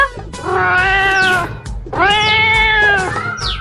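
Two loud, whiny meows from a nearby cat, each lasting over a second, separated by a short gap.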